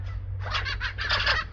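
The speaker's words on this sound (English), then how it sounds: "check out these birds. They're going berserk." A flock of apostle birds calls loudly in a burst of harsh, chattering squawks that starts after a short pause and keeps going in overlapping rapid bursts.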